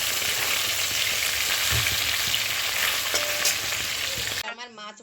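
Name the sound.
small fish frying in oil with salt and turmeric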